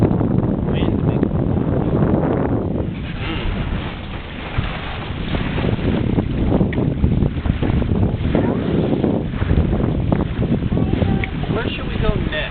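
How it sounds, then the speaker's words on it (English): Wind blows steadily on a sailboat out on the water, a loud continuous rushing roar with microphone buffeting, while people talk throughout. "what makes the sailboat go? Wind."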